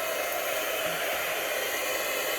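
A Milwaukee heat gun, warmed up for embossing Christmas tags, gives off a steady, loud, even blowing hiss with its fan running close by, unbroken and with no talk.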